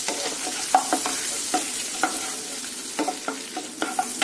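Cardamom, cloves and dried fenugreek leaves are stirred and scraped around a pan on low heat for a paneer lababdar curry, giving a steady sizzle behind soft, irregular clinks and scrapes of the spoon.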